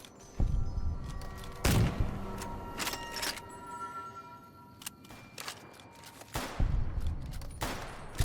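Video game gunfire crackles in bursts of sharp, loud shots, with quieter stretches and some single reports between volleys, a few near and punchy.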